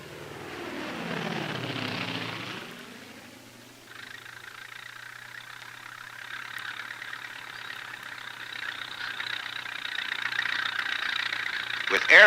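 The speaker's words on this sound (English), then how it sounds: "Air tankers are used to keep the crew from being surrounded." Vintage air tanker flying over a wildfire, such as an F7F Tigercat or TBM Avenger, its engine drone sweeping past in a Doppler dip, then a steady airborne hum with a narrator speaking over it.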